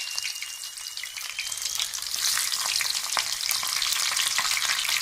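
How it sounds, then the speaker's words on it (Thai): Battered sea shrimp deep-frying in a pan of hot oil over medium heat, giving a steady, dense crackling sizzle that swells a little louder midway and continues without any voices. "พอน้ำมันเดือดได้ที่นะครับตอนนี้ก็เอากุ้งที่ชุบแป้งลงไปในกระทะนะครับ"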